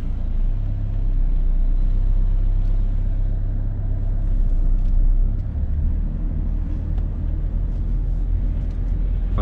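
Steady low engine rumble of a car pulling away in first gear during a driving lesson, continuous and fairly loud from inside the cabin, with no talk.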